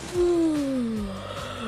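In Fortnite, the Doze Dab emote with a female outfit gives a drawn-out, breathy snore whose clear tone glides steadily downward, close and loud over a faint pulsing beat.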